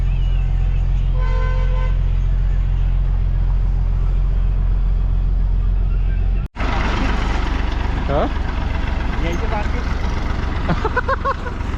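A bus horn toots in short repeated blasts over the bus's heavy engine rumble, then the scene cuts to busy traffic noise with people talking.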